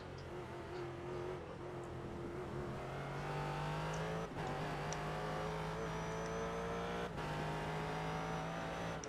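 Several race car engines roar and drone steadily in a prototype racing video game, pitch climbing and shifting with gear changes and brief dips, loud and continuous with no talk.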